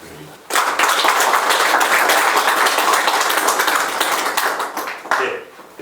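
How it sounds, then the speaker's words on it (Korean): Dense, steady applause from an audience at the 14th Kang Man-gil research grant award ceremony fills the room. It starts abruptly after a brief quiet moment and rolls on evenly for several seconds before thinning out near the end. "큰 박수 부탁드립니다"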